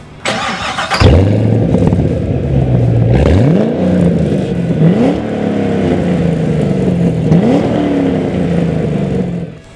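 A Chevrolet Camaro Z28 with a big front-mounted V8 and a 6-speed manual roars loudly and up close. It revs repeatedly in rising sweeps, each climb dropping back as it shifts to the next gear.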